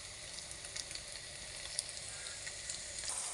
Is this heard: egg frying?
yes